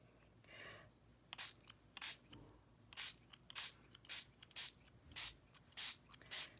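Spray stain is sprayed in a rapid series of about ten short, loud hissing bursts onto wood, each a distinct blast with brief quiet gaps between, close to the microphone and without talk.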